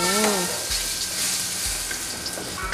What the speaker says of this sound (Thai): คั่วเต้าหู้ให้เขาหอมตรงนี้ก่อน